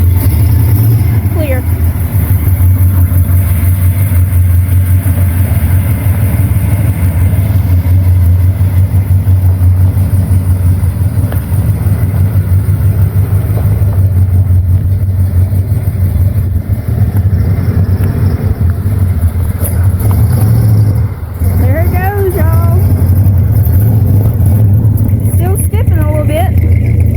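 1989 Chevy Suburban, parked for years, running with a steady low engine drone that holds throughout at close range, while people talk over it intermittently.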